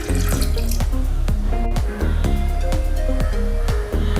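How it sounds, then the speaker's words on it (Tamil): Water pours steadily from a tap into a pot of fish pieces, a loud continuous splashing stream with gurgles and drips throughout. "அது கூடவே மீன் மூழ்கிற அளவுக்கு கொஞ்சமாக தண்ணி ஊற்றிக்கோங்க."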